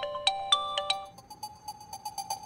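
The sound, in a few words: mobile phone ringtone, incoming call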